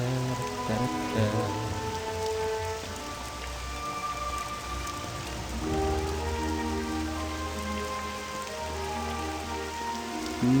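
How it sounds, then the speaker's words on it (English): Steady rain falling as an in-game ambient effect in Wizard101, a continuous broadband hiss with soft tonal music layered beneath it, heard alone with no talk. "I do like the effect of the rain, I really do"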